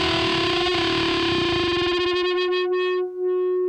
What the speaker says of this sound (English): so I'll bend up to it but then not quite,